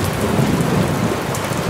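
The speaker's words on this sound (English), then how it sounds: "Hey, it's raining!" Steady, loud rain with thunder rumbling through, a dense continuous downpour that fills the whole stretch without a break and has no voices over it.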